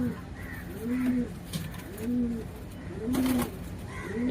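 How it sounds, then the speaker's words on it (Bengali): A female racing pigeon coos close by in a loft, giving several soft, rolling coos in a steady repeating rhythm with faint background noise between calls. "এই আমার মাদি পায়রা"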